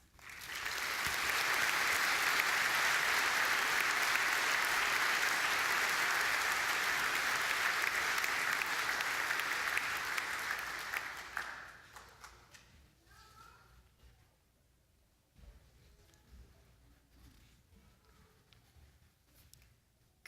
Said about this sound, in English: give yourselves and nurses and healthcare providers everywhere a round of applause